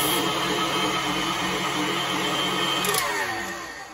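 An electric mixer whirs steadily through Coca-Cola chocolate cake batter, a close, even buzzing drone that eases off slightly at the end.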